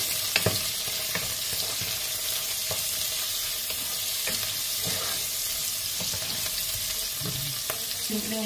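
Sliced squid balls fry in a pan for pancit, giving a steady broadband sizzle broken by a few sharp clacks of stirring utensils, close and without talk.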